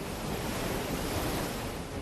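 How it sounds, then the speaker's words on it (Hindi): A swollen river in Seoni rushes after heavy rain as a continuous broadband roar of churning water, loud and steady with no voices. "सिवनी में लगातार बारिश से नदी नाले उफान पर है।"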